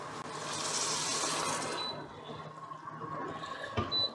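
About two litres of water pour steadily into a pot of already boiling water for upma, a broad rushing stream that fades after two seconds into quieter bubbling and light clinks.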